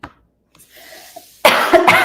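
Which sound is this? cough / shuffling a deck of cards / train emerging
cough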